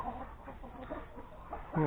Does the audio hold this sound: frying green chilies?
no